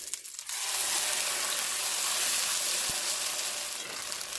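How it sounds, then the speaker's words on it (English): A tortilla fries in enchilada sauce in a pan with a loud, steady hiss and crackle that starts abruptly and holds without letup; no voices are heard. "You just want to leave it there enough to where the sauce fries just enough"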